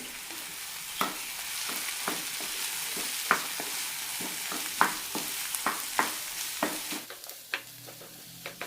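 Chicken masala mixture being stirred in a pan, a soft continuous sizzle broken by repeated sharp spoon scrapes and clacks at an irregular pace, close and fairly quiet, with no talk.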